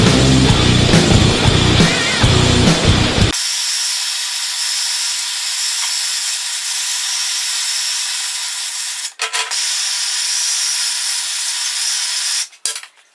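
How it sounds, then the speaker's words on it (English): A blowtorch drying out a cleaned car differential, a steady close roaring hiss that holds for about nine seconds after some earlier noise, briefly broken twice, with no talking. "I'm just going to give it a blast with a blowtorch just to dry it out."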